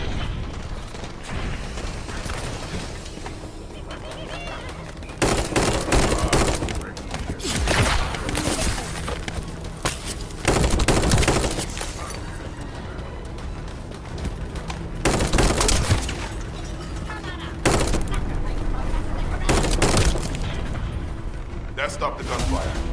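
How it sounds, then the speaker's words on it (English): Bursts of gunfire and booming blasts in the video game The First Descendant recur every few seconds over a steady mechanical rumble, loud and close. "That stopped the gunfire."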